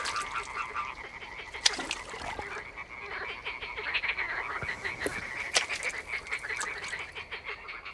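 Tree frogs call in a quiet, unpolluted natural spot, a dense chorus of repeated croaking pulses layered at moderate distance, rising and falling without any voices.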